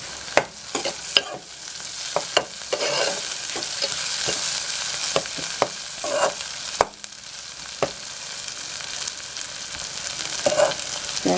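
Onions frying in a pan with chopped coriander for noodles, a constant sizzle punctuated by sharp, irregular clacks and scrapes of a spatula stirring, close and clear.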